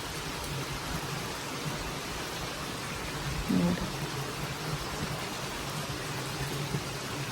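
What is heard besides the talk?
rain falling outside a village house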